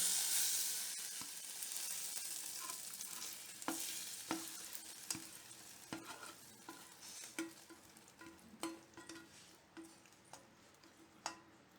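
Schezwan fried rice sizzles steadily in a hot pan while a spatula scrapes and taps against the metal in repeated close, crisp strokes, with no one talking.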